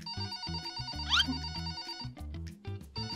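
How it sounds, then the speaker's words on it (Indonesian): A telephone rings with a repeating electronic melody, moderately loud and close, its rhythmic tones cycling steadily for the whole stretch with no talk over it. "Oh, nih guys, ada telepon guys."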